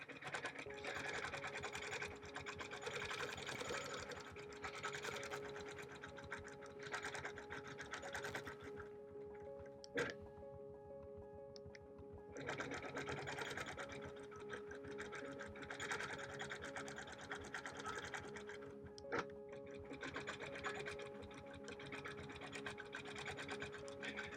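A sewing machine stitches a bird panel quilt in a steady, continuous mechanical whir with fast needle chatter, briefly slowing and pausing mid-way before running on, close and alone.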